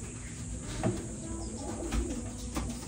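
Racing pigeons in a breeding loft give soft, low cooing calls over a faint steady background, with a few brief clicks or knocks at irregular moments.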